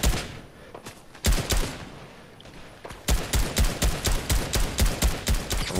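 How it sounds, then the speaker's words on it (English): Gunfire in a Fortnite duos match: loud bursts of shots, a few scattered cracks at first, then a steady rapid string of evenly spaced shots, close and dominant with no talk. "Oh, they're shooting at us."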